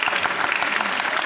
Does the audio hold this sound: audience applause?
yes